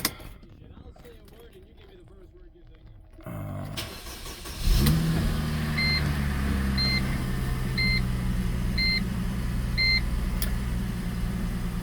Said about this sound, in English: As you can see, started right up on a cold start.